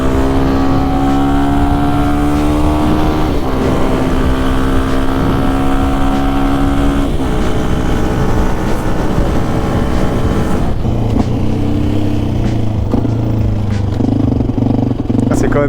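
Supermoto 125 WRX motorcycle engine droning loudly while riding, its pitch climbing, then dropping at gear changes, with a clear shift around midway and a lower, steadier note afterward.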